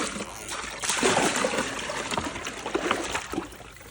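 Water poured into a goat's water bucket on a farm during chores, a steady splashing trickle lasting several seconds at close range with no talking over it.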